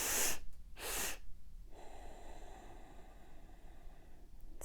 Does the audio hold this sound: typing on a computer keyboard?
no